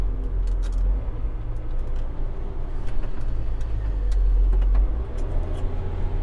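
A John Deere 6930 tractor pulling a Kverneland ED100 plough at about 4 km/h, its engine giving a loud, steady low rumble with rattling under load and no pauses.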